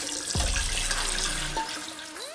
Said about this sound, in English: Go ahead, drain that water.